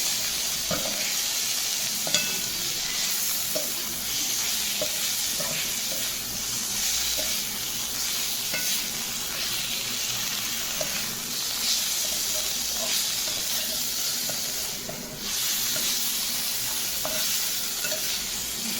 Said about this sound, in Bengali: মাছ ভাজা কিন্তু কমপ্লিট